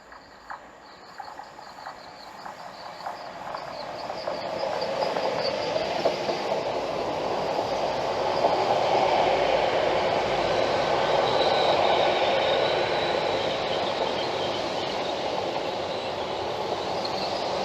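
A GWR Class 800 train pulls into Hayle station, its rumble and hiss swelling from faint to a steady, loud roar that holds for the rest of the stretch, with a high whine running on top and no voices.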